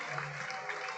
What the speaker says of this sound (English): now he will get an ovation from the home crowd